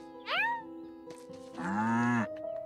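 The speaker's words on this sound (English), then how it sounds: "now you can actually hear the cat and the cow, like, interact" A cat and a cow in the Staxel video game call in turn: a short rising meow comes first, then after a pause a longer, fuller moo, both clear over a faint steady background.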